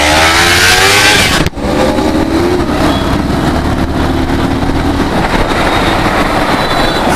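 Motorcycles riding together on a Sunday group ride, 300cc, 400cc and 160cc bikes including a Kawasaki Ninja and Dominar 400, a loud, close engine drone with rising revs and a sharp wind thump partway through.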